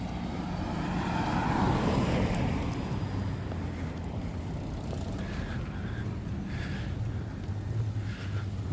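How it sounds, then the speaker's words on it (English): A jet airliner passes over Tokyo on approach toward Haneda, a broad steady roar that swells in the first few seconds and then fades, heard outdoors with street ambience and wind noise around it. "I'm pretty sure it's heading to Haneda, but where does it come from?"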